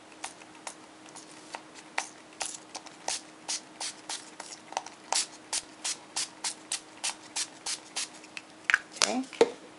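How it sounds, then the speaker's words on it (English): Repeated short hissing bursts of gold spray paint onto burlap in a steady rhythm, close by, with a few louder rustling sounds near the end. "and then just go ahead and spray"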